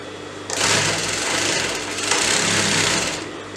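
A sewing machine stitches crepe fabric for a palazzo, its fast steady whirring starting abruptly and running continuously at close range.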